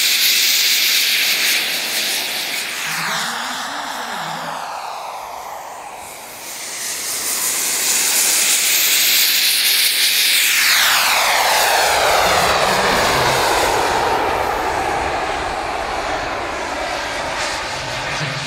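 IT JEEMO model glider with a 3.2 metre wingspan passing at a model air show, a loud continuous jet-like roar and hiss that dips near the middle then swells again with a sweeping, Doppler-like rise and fall.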